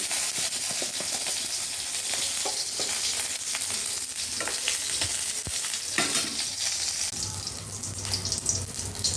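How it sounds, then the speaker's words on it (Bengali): Panch phoron spices and chillies sizzle loudly in hot oil, a dense continuous hiss with crackling spits and scattered pops, close and steady throughout. "এই যে লঙ্কায় 5 ফোড়নটা ফোড়ন দিয়ে দিলাম"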